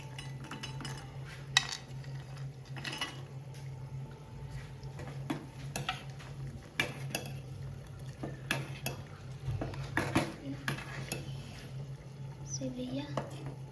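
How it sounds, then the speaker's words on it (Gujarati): Dry fruits such as cashews and almonds are tipped into sevaiya vermicelli in a pan and stirred, giving scattered clinks and scraping of a spoon against metal over a steady low hum, with a voice in the background. "હવે અંદર જે ડ્રાયફ્રૂટ છે એ નાખી દઈશું."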